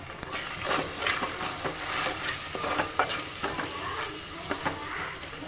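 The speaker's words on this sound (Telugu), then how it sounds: "ఇప్పుడు దీంట్లో పసుపు వేసుకొని ఒకసారి అంతా కలుపుకుందాం" Spatula stirring turmeric into tomato chicken curry in a pan, a steady scraping and sizzling frying sound with repeated stir strokes, close and alone.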